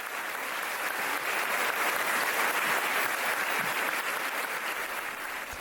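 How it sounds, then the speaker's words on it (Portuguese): Steady applause from a congregation at a Bible study gathering, clapping evenly and continuously throughout without pause. "nossa irmã Maria Luísa, a quem lhe damos um forte abraço com nossos aplausos"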